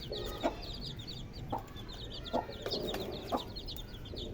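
A hen clucks softly while pecking at millet, giving short repeated clucks against a quiet background, with occasional sharper pecking taps.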